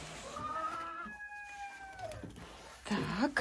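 Farmyard hens cluck and call close by while eggs are being collected, several rising and falling vocalizations overlapping, with a louder burst of clucking at the end.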